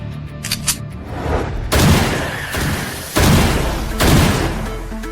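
Loud gunshots crack out at a range, a few sharp blasts spaced about a second or more apart, each with a booming tail, no voices.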